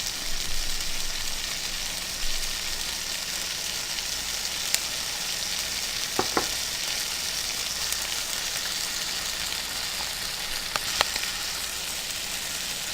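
Ackee and saltfish frying in a pan for a Jamaican dish, giving a steady close sizzle throughout with a few faint clicks of utensils and no talking.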